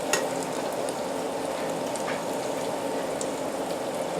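Eggs frying in a pan on a homestead kitchen stove, a steady close crackling sizzle that holds evenly throughout with small spatters and no talking.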